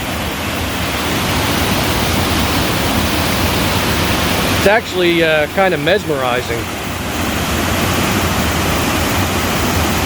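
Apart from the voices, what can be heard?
water flowing over a dam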